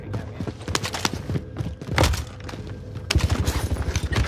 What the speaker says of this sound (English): Some motherfucker is shooting at me.